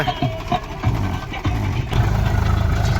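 A tractor engine runs close by with a low, steady chug that swells slightly toward the end, with no speech.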